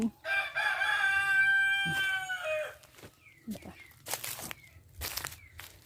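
A rooster crows loudly up close at evening feeding time, followed by scattered clucks and chirps from nearby chickens, with a quiet background.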